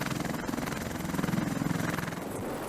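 A military helicopter hovers close overhead during a Marine sling loading exercise, its steady rotor thump and turbine roar continuous and loud throughout.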